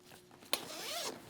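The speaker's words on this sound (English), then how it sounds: "we're going to unzip the suit" A race suit zipper is pulled open in one quick, close rip that begins with a sharp tug and rasps for about half a second before stopping.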